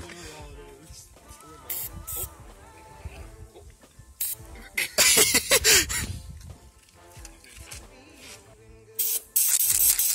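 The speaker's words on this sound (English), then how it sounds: "Quit spraying me!" Silly string sprays out in several short hissing bursts, loud and close, between stretches of quieter rustling and muffled voices.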